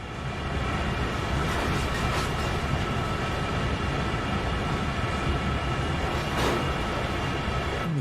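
An SD40-2 diesel locomotive in Train Sim World 2, pushing heavy freight cars uphill at night in low notch, with a steady engine drone and wheel rumble, plus occasional creaks and squeals from the cars.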